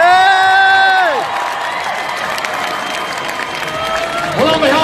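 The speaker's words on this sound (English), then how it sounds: "give a big round of applause to both boxers" Crowd applause and cheering after the KSI vs Joe Weller boxing match, a loud arena roar with an announcer's amplified voice ringing over it at the start, the clapping continuing steadily with whoops throughout.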